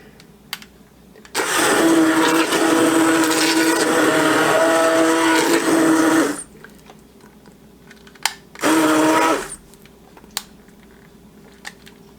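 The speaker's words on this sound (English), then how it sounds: "I'm going to get in here with the immersion blender and" An immersion blender purees soft cooked potatoes for a sweet potato jalapeno soup, running loud in a long steady burst of about five seconds, then stopping and giving a second short burst after a pause.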